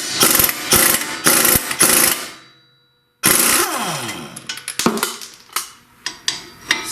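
Pneumatic-style impact wrench hammering on a 21 mm bolt during Chrysler Town & Country transmission removal, several loud rattling bursts, a brief pause, then more bursts and short clanks close up.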